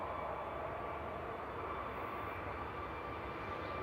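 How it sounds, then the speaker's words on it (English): Sun F aircraft departing Manchester Airport for Lanzarote on flight 891: a steady, broad jet engine roar held at constant loudness throughout, with no voices. "This is Sun F off to Lanzarote with flight 891"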